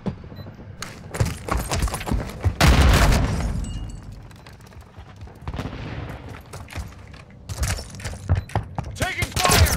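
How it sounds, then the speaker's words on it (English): Gunfire in Call of Duty Modern Warfare 2 during a Domination match at Breenbergh Hotel: dense rifle volleys and booming blasts in bursts, loud and close, with faint voice chatter in the mix. "Taking fire!"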